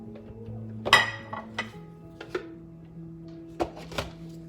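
Onions are chopped in a small kitchen food chopper, with a series of sharp clacking and rattling chops at irregular intervals over a steady low hum, close up and with no one talking.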